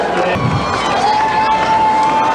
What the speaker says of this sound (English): The Ohio Wesleyan crowd up and on their feet.